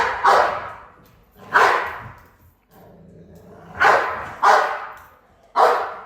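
A Black Russian Terrier in reactivity training barks forcefully and close up, five deep single barks in an irregular rhythm separated by brief pauses.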